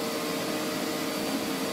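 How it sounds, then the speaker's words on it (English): A loud electric hand dryer roars steadily in a public toilet, a continuous close blast of air with no pauses and no voices over it. "And why is that hand dryer so loud?"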